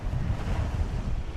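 Waves wash against the shore at Goose Island State Park, a brief rumbling surge of water mixed with gusting wind noise, close and fairly loud.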